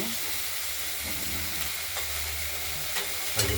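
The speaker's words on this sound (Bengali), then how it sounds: "ভাজা হতে থাকুক ব্রোকলিগুলো" Broccoli frying in a pan for a rohu fish curry with potato, tomato and coriander: a constant, moderately quiet sizzle and hiss, with light stirring scrapes and a clunk near the end.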